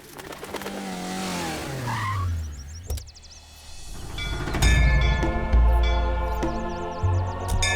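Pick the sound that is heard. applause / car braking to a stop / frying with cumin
car braking to a stop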